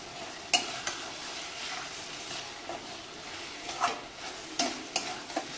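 Capsicum being stir-fried with mushrooms for pasta, a quiet steady sizzle broken by several short scraping and tapping stirs of a spatula in the pan.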